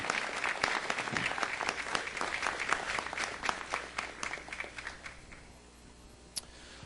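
Applause for a guest from a downtown soccer club at a city council meeting, a burst of crisp clapping that thins out into a few scattered claps and fades away.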